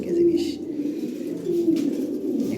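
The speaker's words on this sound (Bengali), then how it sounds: "কঠিন জিনিস ভাই, বিশাল সাইজের কবুতর। এগুলো ব্ল্যাক চেকার বলে এটারে" A large black checker pigeon coos in low, rolling phrases close by, repeated twice with a brief break, while faint voices and rustling come from the cage area.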